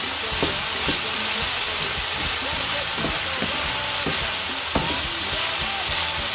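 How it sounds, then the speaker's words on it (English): Salted vegetables, including carrots, for a chicken pie filling are stirred in a hot pan, giving a loud, continuous sizzle broken by repeated scrapes and knocks of the utensil. "A quick stir again."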